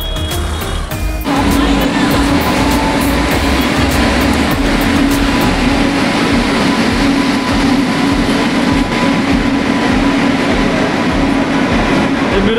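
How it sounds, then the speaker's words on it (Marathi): Trains rumble loudly and continuously at Miraj Junction railway station, with a steady mechanical drone and clattering running through the busy platform ambience. "हे मिरजचं रेल्वे स्टेशन आहे."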